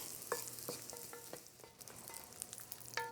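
Garlic browns in a pan with a soft, low sizzle and a scatter of light clinks and scrapes from stirring, fairly faint and close, with nobody speaking.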